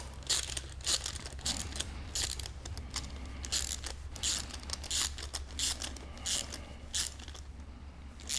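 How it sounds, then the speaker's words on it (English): Rapid ratchet clicks from a wrench turning bolts on Porsche 944 valve covers during an LS swap, coming in quick repeated bursts close by, with no talking. "You just use a wrench and a ratchet and be done with it."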